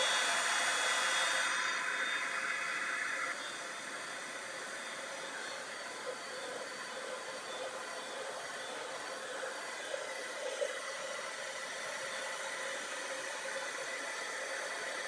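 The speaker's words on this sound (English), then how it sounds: "now I'm going to bring out my heat gun and just do a little bit of embossing" Heat gun blowing steadily for embossing on paper, a constant close airy roar that drops slightly in pitch early on and then holds, with no talk.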